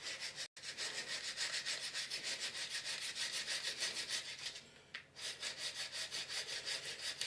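Steady back-and-forth rasping as a snapped plastic roof piece from a model brake van is sanded or filed smooth, close and even-paced, with one brief pause partway and no talk.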